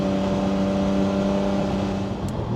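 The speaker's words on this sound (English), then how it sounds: "It's nice when you hear a little bit of the flutter from the waste gates." A 1994 Jaguar XJ-220 twin-turbo engine drones loudly and steadily from inside the cabin, with a faint fluttering from the turbo wastegates under the constant engine hum.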